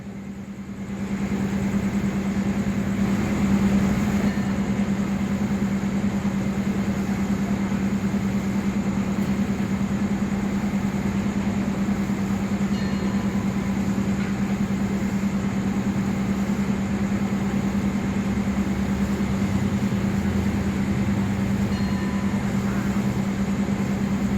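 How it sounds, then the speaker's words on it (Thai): A Thai diesel railcar train, unit NKF 1260 leading, rumbles steadily past a station with a constant engine drone and hum, close and unbroken from start to finish. "แล้วก็ได้รถดีเซลราง NKF 1260 เป็นคันนำ"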